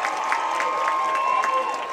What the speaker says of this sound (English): Let's give a big round of applause to Mr.